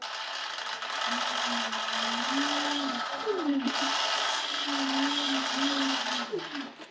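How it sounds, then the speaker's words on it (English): A steady rubbing, whirring mechanical noise from an out-of-adjustment brake caliper rubbing the rotor on an H-1 Pro Series Ace R450 electric scooter, with a wavering tone that shifts in pitch as the brake is applied, continuous and close, fading out at the end. "if you listen to it as I hit the brake, the sound changes a little."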